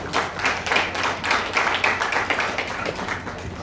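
Audience applause at a grand celebration event, steady crowd clapping at moderate level throughout, no voices over it.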